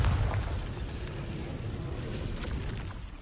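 Bombarda blasting spell going off in Hogwarts Legacy, a rumbling explosive burst with a strong low-end boom at the start that decays into a sustained rolling roar over a few seconds.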